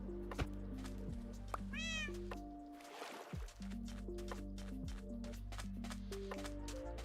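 Minecraft cat meows, including a rising, wavering cry near the middle, over looping game music with a brief splashy whoosh.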